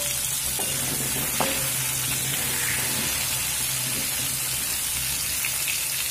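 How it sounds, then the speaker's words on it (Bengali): Pumpkin pieces with turmeric frying in oil over a high flame make a loud, continuous sizzle and crackle, with occasional stirring scrapes and no talking. "কুমড়ো কিন্তু আমি হাই ফ্লেমে ভাজবো"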